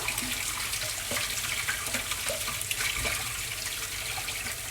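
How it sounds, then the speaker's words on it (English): Tap water runs continuously and steadily nearby, a broad hissing splash over spaghetti in a strainer, with no voices. "I'm going to just run some water over it so it doesn't all stick together."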